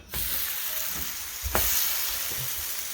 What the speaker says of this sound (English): Make sure the bread is fully covered with grease. You have to put it on the pan.